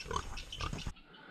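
A pig grunts and snorts close by in a short, rough burst, followed by a brief quieter moment.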